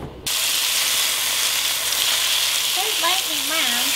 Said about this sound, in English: So now it wants me to heat a drizzle of olive oil, per usual.